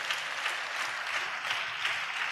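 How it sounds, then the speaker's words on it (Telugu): Church congregation clapping together in praise during a Christian sermon, a steady rhythmic patter of many hands heard faintly from a distance with no talk. "చప్పట్లు కొడుతూ దేవునికి స్తోత్రాలు చెప్దాం."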